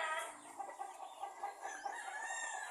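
Backyard chickens clucking and calling close by, several overlapping warbling and squawking notes in quick succession, moderately loud with no talking.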